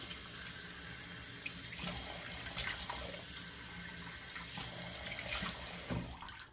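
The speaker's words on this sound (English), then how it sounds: "2 good splashes of cold water." Cold water runs from a bathroom sink tap while someone splashes it onto a freshly shaved face, a steady faucet stream broken by a few splashy bursts, close and fairly quiet.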